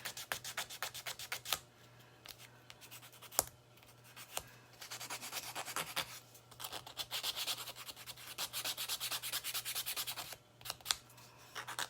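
Hand sanding on a chalk couture craft piece, with close dry rubbing and rasping strokes coming in uneven bursts between short quiet gaps, fairly faint and heard on its own.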